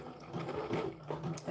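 A sewing machine stitches a doll dress in short, quiet whirring bursts close by, with brief pauses between the runs of stitching.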